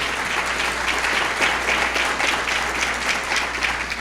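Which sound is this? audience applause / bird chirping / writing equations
audience applause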